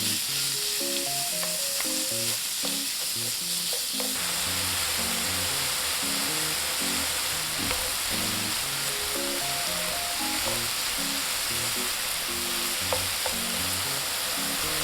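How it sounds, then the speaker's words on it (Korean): Beef sizzles and fries in scallion-infused cooking oil in a pan, a steady loud hiss throughout, with light background music underneath. "파의 향이 넉넉하게 올라왔다면 소고기를 넣고 잘 볶아줍니다."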